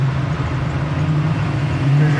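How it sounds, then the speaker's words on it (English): A 1967 Chevrolet Camaro RS/SS with a 327 V8 downshifting to third gear: a steady, close, low engine drone that swells slightly at the end. "There's your downshift to third."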